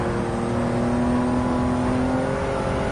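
Engine of a Toyota GR Yaris in Gran Turismo revving hard at full throttle, a steady loud drone with a rising tonal whine, heard alone for three seconds during a time-trial run at Lago Louise.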